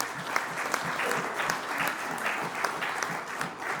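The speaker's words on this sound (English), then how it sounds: "a big round of applause for Tony" Sustained audience applause at an event for Tony, a dense steady patter of many hands clapping at even loudness throughout, with a few sharper individual claps standing out.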